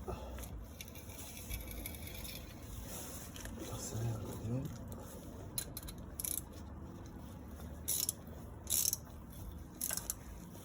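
Ratchet tightening screws on a car, heard as several quick bursts of clicking close by, quiet overall, with a person talking in between.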